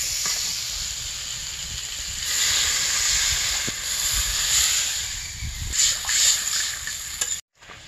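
Water poured into a hot cooking pan of curry vegetables before fish are added, a loud steady sizzling hiss lasting several seconds, close and alone, cutting off abruptly at the end.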